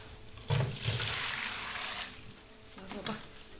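Fish, a large crucian carp, being washed in water in a home kitchen, heard as soft close splashing and running water with a few sloshing bursts, faint and low throughout.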